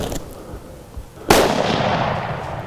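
A single sharp rifle report cracks out during an antelope hunt in Africa, a loud broadband blast that rings into a long, noisy tail, preceded by faint rustling.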